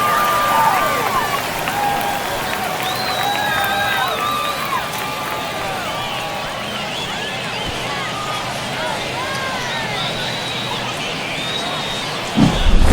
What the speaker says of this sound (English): This crowd is on fire right now. They're going nuts thanks to that home run.